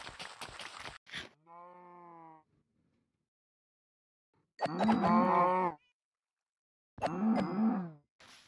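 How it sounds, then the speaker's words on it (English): Cows mooing in Minecraft: a short low moo, then two longer, loud, nearby lowing calls with gaps of silence between, preceded by brief clattering game sounds. "Finally some cows."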